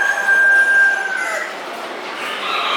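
A crow comes from a nice-breed rooster among chickens for sale, close and fairly loud over a couple of seconds, with a long drawn first note and a trailing finish, no voices over it.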